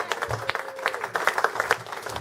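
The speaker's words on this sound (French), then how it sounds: "Est-ce que quelqu'un peut applaudir pour le Seigneur?" Church congregation clapping in a short burst of scattered handclaps, near and moderately loud, with a faint low murmur underneath.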